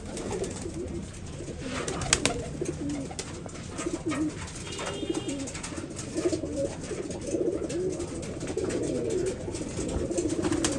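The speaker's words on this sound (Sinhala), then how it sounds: "අපේ බොම්බේ කුරුල්ලා ඉන්නවා" A Bombay pigeon coos in repeated soft, low calls against a constant busy background hiss and rustle.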